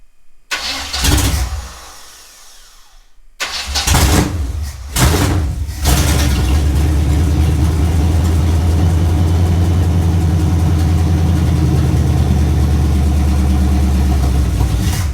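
A 3rd gen Camaro Z28 engine cranks in a few short bursts, catches and fires, then settles into a loud, steady, rumbling idle close by.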